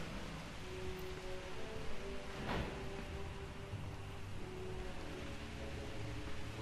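Steady rain falling across a dinosaur park in Jurassic World Evolution, a continuous broadband hiss with a faint low tonal hum underneath and one brief swelling gust near the middle.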